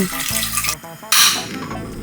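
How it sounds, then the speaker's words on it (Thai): Water splashes and gurgles as it is poured into a pot on a stove, briefly rushing louder near the end, close by with no talking. "เทน้ำพอประมาณ"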